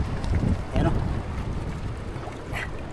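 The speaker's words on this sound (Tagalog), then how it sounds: "Grabe, lakas ng hangin ngayon o." Strong wind buffets the microphone outdoors beside a small boat, a steady heavy rumble with gusting swells throughout, with a voice speaking over it.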